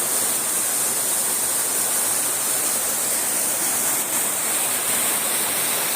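Waterfall near Panchapalli dam, a steady broadband rush of falling water that holds loud and unbroken from start to finish with no voices.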